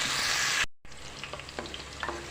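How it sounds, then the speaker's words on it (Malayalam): Okra sautés in a pan with a close, steady sizzle, a brief gap of silence, then softer frying broken by the scrape and clink of stirring. "വെണ്ടക്കായ നമുക്ക് ആദ്യം തന്നെ ഒന്ന് ജസ്റ്റ് ഒന്ന് വാക്കിയെടുക്കാം"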